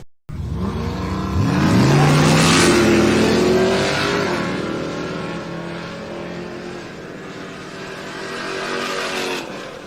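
A 1972 Chevrolet Nova and a 1973 Chevrolet Camaro launch in a drag race at Sick Summer, engines roaring and revving hard as they pull away down the strip, loud and sustained before gradually fading.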